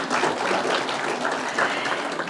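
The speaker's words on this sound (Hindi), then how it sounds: "इनके लिए जोरदार तालियां।" A crowd applauds steadily at an awards ceremony in India as a runner-up award winner is honoured, dense sustained clapping filling the room from start to finish.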